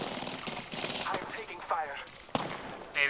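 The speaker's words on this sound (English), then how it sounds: "Sounds like a sniper battle." Sporadic gunfire from a sniper battle in Apex Legends, sharp cracks scattered through the clip alongside clattering game noise, with a person talking over it.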